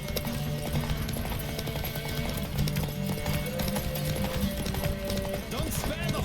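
Hooves clip-clop steadily from a galloping horse in The Witcher 3 video game, a continuous rhythmic pounding mixed with game music and voices talking over it throughout.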